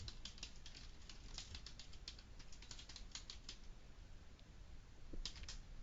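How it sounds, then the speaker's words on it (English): Rapid, uneven clicking of fingers typing on a computer keyboard, close and fairly quiet, keys tapping in quick bursts with short pauses and no speech. "you'll see how bad my typing is."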